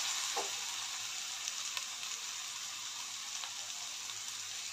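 Ridge gourd sautéing in a pan with turmeric, a steady close hiss of frying that runs throughout, with a few faint stirring taps.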